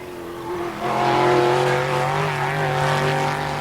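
Classic rally cars race on a closed Alpine road, with the most powerful car in the rally among them, as a close engine drone climbs in pitch while accelerating, steady and loud, with no voices.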